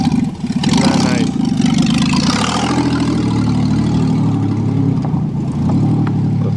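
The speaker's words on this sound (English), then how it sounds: "That's a Taurus with no exhaust manifold." A Ford Taurus wagon engine with no exhaust manifold revs and rumbles up close, loud, raw, harsh and rattly, its pitch rising and settling before idling roughly.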